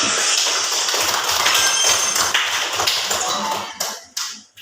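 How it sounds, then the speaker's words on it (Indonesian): Classroom applause from students, dense rapid clapping that holds strong and then trails off in a few scattered final claps. "Ayo kita beri aplaus dulu"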